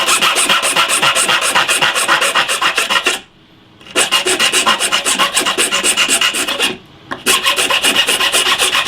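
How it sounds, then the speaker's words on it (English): A hand file rasps a guitar fret tang off in fast, rhythmic back-and-forth strokes, loud and close, pausing twice briefly before resuming, with no talking. "it's just a question of filing the tang off with your Wilco file"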